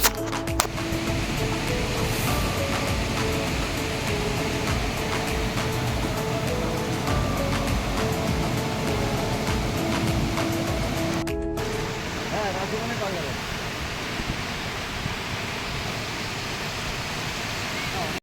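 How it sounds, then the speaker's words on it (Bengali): Dassam Falls, a waterfall, rushes with a steady broadband roar of falling water that fills the whole clip at an even, loud level, with a brief break partway through and no other distinct sounds on top. "আপনারা দেখতেই পাচ্ছেন আমার পিছনে এই সেই দশমফল জলপ্রপাত"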